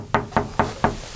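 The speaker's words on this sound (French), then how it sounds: "Toc toc toc, Monsieur Nkunku, tu es là?" Four firm knocks on a house door, evenly spaced and close, with no voices.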